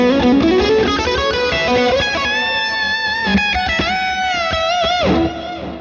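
Electric guitar lead through a Fractal amp modeler with a compressor as booster, sustained singing notes with a short melodic run, bends and vibrato, followed by a long reverb and delay tail.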